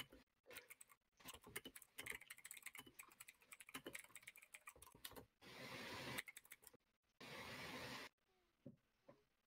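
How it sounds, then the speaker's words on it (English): Rapid clicking of a computer keyboard being typed on, irregular bursts of keystrokes close up, broken by two brief loud noise bursts and a few sparse final taps. "I can hear the typing so well"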